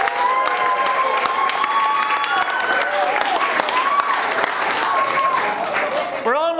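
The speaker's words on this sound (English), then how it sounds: "So give yourselves the biggest clap of all." Wedding guests at a humanist ceremony clap and cheer together in a sustained, dense burst of applause with whoops rising through it, filling the whole stretch before a voice begins at the end.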